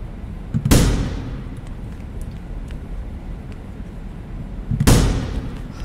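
Two loud, sharp pistol shots roughly four seconds apart in the video game The Final Station, each with a booming decay over a steady background rumble.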